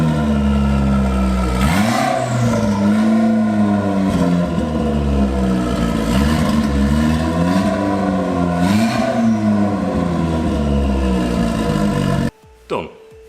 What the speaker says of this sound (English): at least you can have a listen to the exhaust a bit while I do it